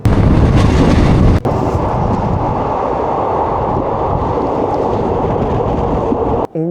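Teesta Torsa Express train pulling out of New Farakka Junction, a loud rumble of wheels and carriages that starts heavy and close, then settles into a steady rolling roar through to the end.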